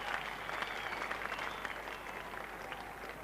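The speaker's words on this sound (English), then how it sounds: "A generous round of applause from this full house here at the Oval." Sustained applause from a large cricket crowd at a full Oval ground, many hands clapping steadily at a distance, with a faint murmur underneath.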